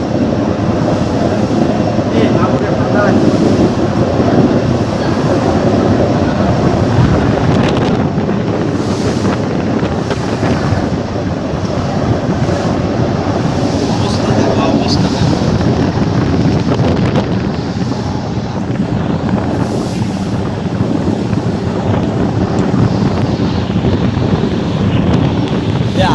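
Strong wind roars steadily across the microphone for the whole stretch aboard a passenger launch on the Meghna River during a storm, with a low rumbling engine drone beneath it and no talking.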